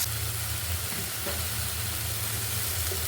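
Onion paste fries in a pan as the base for a catla fish curry, giving an even, close sizzle that hisses steadily for the whole moment without talking.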